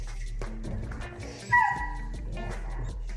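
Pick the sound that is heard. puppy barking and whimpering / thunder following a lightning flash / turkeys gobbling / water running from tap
puppy barking and whimpering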